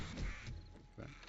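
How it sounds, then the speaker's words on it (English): Faint, distant bird caws echo in a video game, a couple of short rough calls amid low background game noise. "Sounds like birds up top."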